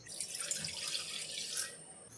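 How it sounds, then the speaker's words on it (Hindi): Water pours steadily into a kadai for cooking, a brief, fairly quiet hissing splash that runs continuously for about two seconds. "कढ़ाई में हम 1 कप पानी लेंगे,"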